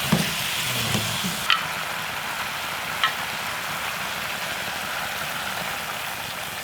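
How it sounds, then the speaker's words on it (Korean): Radish pieces being stir-fried in a pan for braised squid, a constant loud sizzle up close with a few sharp taps of the spatula against the pan. "충분히 볶아. 무스에 간이 되게."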